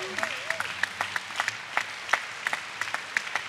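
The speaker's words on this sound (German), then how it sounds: "Bitte jetzt wieder Klatschvorbereitungen einleiten." Applause from a convention audience at a regional party conference, a steady patter of clapping hands with sharp individual claps standing out, moderately distant and continuous without voices.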